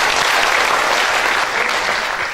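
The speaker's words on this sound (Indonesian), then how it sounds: "Tepuk tangan sekali lagi untuk Pak Dhani." An audience applauds at the KSAN 2015 sanitation event, a dense, steady burst of clapping that stays loud and then eases off slightly at the end.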